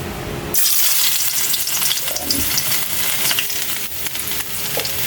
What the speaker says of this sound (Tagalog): Mag-umpisa na tayo sa ating pagigisa at magpapainit na rin tayo ng mantika